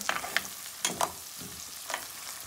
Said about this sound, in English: I'm going in with my garlic. We're gonna give this a mix.